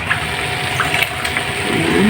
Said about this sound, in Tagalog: Nilagyan, guys, natin ng tubig